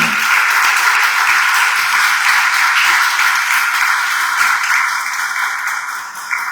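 A church congregation applauds during a Spanish-language sermon by Pastor Leonel Urbina, sustained loud, even clapping that holds for several seconds before tapering slightly at the end.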